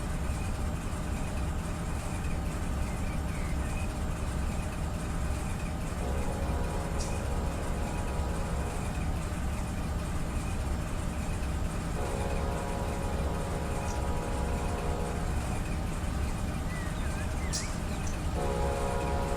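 A BNSF freight train rolls steadily past in Run 8 Train Simulator, a continuous heavy rumble of wagons with the locomotive horn sounding in several long blasts, loud and close throughout.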